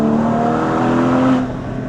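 Porsche 981 Cayman GT4 engine heard from inside the cabin as a steady, loud drone with a sustained tone that rises slightly before easing off near the end.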